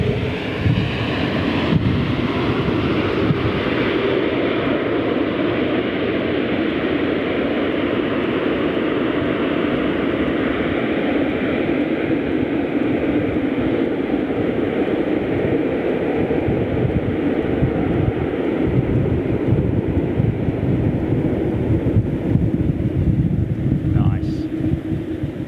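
A Cathay Pacific Airbus A350-1000 lands at London Heathrow with reverse thrust, a loud, sustained, wind-buffeted roar heard from a distance that holds steady throughout.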